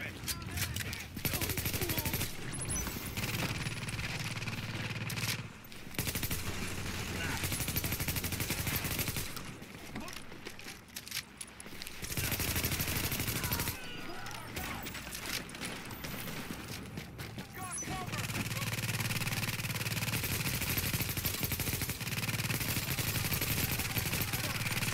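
Sustained automatic gunfire in The Division, dense bursts of shots rattling in long stretches with brief lulls, loud and close throughout.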